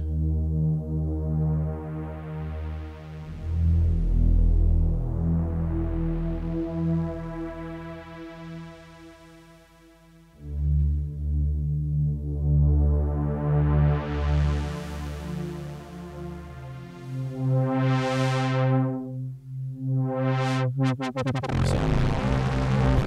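A sustained synth pad from a Synthstrom Deluge plays chords, its tone repeatedly brightening and darkening as a slow LFO-driven filter sweep opens and closes, loud and alone without talk.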